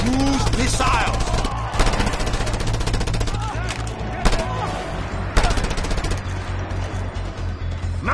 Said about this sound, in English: Mounted gun!